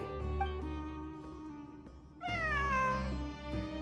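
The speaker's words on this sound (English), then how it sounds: "It really is a cat." A cat meows in Genshin Impact with a rising, drawn-out cry over a steady, humming game soundtrack, with a fainter meow earlier in the clip.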